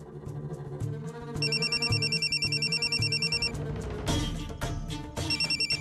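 A phone rings repeatedly with an electronic trilling ringtone over background music, the rings pulsing in a steady pattern.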